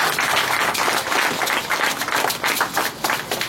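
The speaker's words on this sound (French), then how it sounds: "Nous acclamons pour la parole de Dieu." A church congregation at an evangelical seminar breaks into sustained applause, a dense, continuous wash of many hands clapping together at close range, with no voices standing out above it.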